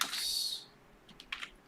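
Close typing on a computer keyboard, starting with a short burst of rapid clicks and followed by a few separate, softer keystrokes in a quiet room.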